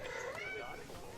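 A pet cat meows in a drawn-out, wavering cry, faint and indoors, with a voice talking alongside it.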